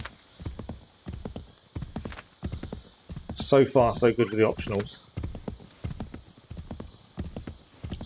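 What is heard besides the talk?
horse hooves in video game Assassin's Creed III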